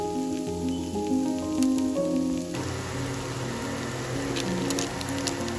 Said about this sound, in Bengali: আমি এরকম ভাবে মিক্স সবজি ভাজি আর তাতে দিই ম্যাগি মশলা।